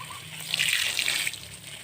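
Irrigation water running in a sugarcane field, a steady broadband rush and trickle that swells louder through the middle of the short stretch and then eases, heard alone without talk.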